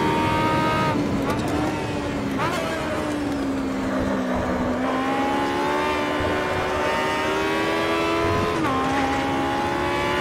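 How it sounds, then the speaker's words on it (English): High-pitched motorbike-derived engine of an Aussie Racing Car in the Automobilista racing game at Winton, revving hard and steady through gear changes, loud and continuous with brief shifts in pitch. "this is a motorbike engine"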